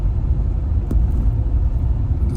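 A bus travels a rough, narrow off-road mountain route near snowy Kaza in Spiti. Its engine gives a steady, close, low rumble throughout, with one brief sharper knock partway through.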